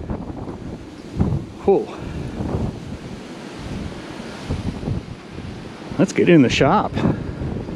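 Strong wind blasts outdoors by the sea, buffeting the microphone with loud, gusty roaring and surf-like rush, while a man briefly exclaims and speaks over it.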